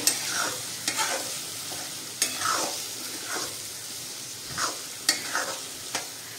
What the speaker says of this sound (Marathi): हे चांगलं सर्व मिक्स करूया